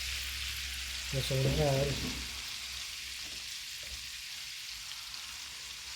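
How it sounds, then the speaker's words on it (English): Minced garlic frying in melted butter in a pan, a steady soft sizzle and hiss running throughout, with a voice speaking briefly over it early on. "I get this butter melted. I threw 2 teaspoons of minced garlic in here."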